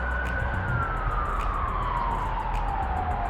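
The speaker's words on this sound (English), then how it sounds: "sorry about all the ambulances going by" Ambulance sirens passing on a street, one steady wailing tone sliding gradually lower as the vehicle goes by, loud and continuous over a constant wash of traffic noise.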